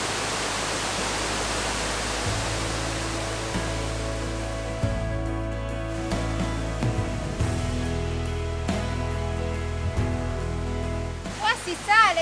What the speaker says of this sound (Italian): Si sente la cascata,